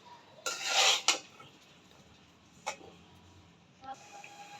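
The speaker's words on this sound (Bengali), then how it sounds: "আমি এবার এগুলি একটু নাড়াচাড়া করে নেব।" Spiced chicken liver being stirred in an oiled pan for liver bhuna, giving a loud burst of metal scraping and clatter early on, then a few isolated clinks and taps against quiet background.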